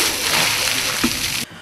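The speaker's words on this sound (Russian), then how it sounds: "Люди, облившись ледяной водой, просто совершают благотворительные поступки." A bucket of ice water is dumped over people, giving a loud rushing splash and splatter that cuts off abruptly, with a brief slosh afterward.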